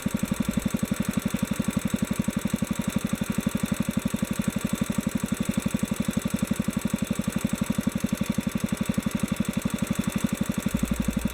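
A Kohler K-series small engine idles steadily during a carburetor idle screw adjustment, its even, rapid thumping firing pulses continuous and loud throughout with no talk.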